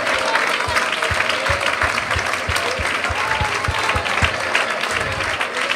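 A crowd at a Malayalam Christian sermon claps steadily and fairly loudly throughout, a dense wash of applause with a few distinct hand claps standing out and no speech over it.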